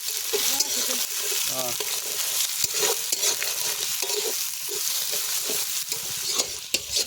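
Spicy masala chicken sizzles and crackles in a pan as it is stirred, close and steady, with some background voices in a village setting.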